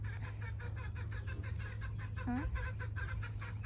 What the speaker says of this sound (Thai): ไก่ร้องใช่ไหมคะ